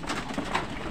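A racing pigeon in a loft gives soft, close cooing calls, layered with the murmur of other birds nearby.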